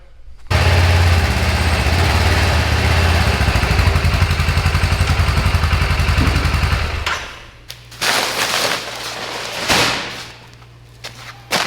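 A Kubota Sidekick utility vehicle engine runs loud and close with a rough, rapid chugging for several seconds, then drops away, leaving intermittent bursts of noise and a low idle.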